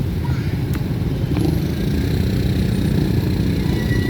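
Street traffic with motorcycle engines running nearby, a loud steady mechanical drone with a brief passing whine.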